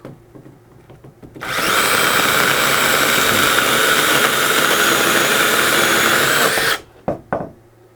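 An ORBLON 6-inch battery mini chainsaw runs at a loud, steady high whine for about five seconds, then cuts off abruptly, followed by a few short revving bursts.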